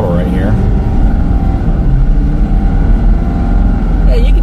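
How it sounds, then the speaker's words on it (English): A 2023 Ford F450 Limited pickup accelerates under throttle while towing 30,000 lbs on the bumper, its engine giving a loud, steady, heavy drone that holds for several seconds. "And then I'm going to give it some throttle right here"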